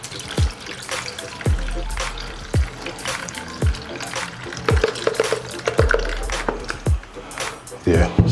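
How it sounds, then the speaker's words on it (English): Grated coconut is squeezed and strained by hand to extract its milk, giving wet squelching and trickling sounds broken by repeated dull knocks, while a person talks over it. "so now you squeeze the coconut, you gotta juice it, so you gotta strain it"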